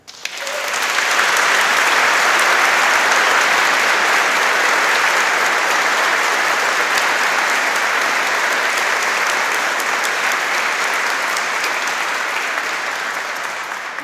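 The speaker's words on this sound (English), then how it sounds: "can I ask you all a resounding noise of applause to the West of Scotland University" A graduation audience inside Paisley Abbey gives sustained, loud applause for a university and its staff, dense clapping filling the hall steadily for about fourteen seconds before easing slightly at the close.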